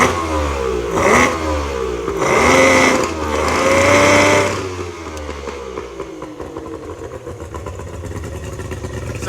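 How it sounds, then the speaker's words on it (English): A Tohatsu 50 outboard motor with a freshly rebuilt carburetor runs in gear, its revs rising in loud surges for about five seconds before settling into a steady, quieter idle-like hum. "So it sounds a lot better. I think it's just hitting the rev limiter when it's not in gear."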